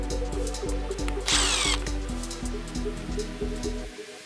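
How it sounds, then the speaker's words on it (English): A power screwdriver whirs in short repeated bursts while backing out T10 Torx screws from factory DRL boards, with a brief sharper high whine midway, close and loud. "To remove the factory DRL boards, we'll have to remove 2 T10 Torx screws."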